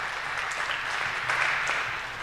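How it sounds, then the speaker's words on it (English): A conference audience applauds steadily for a couple of seconds, with dense, even clapping from a room full of people and no talking over it. "Give yourself a warm applause because you're in here while the weather outside is really great."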